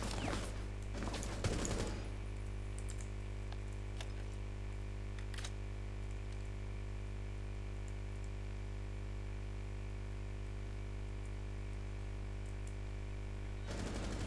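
Gunfire in the tactical shooter game Rainbow Six Siege, with short bursts of shots near the start and again at the very end over a steady low in-game hum.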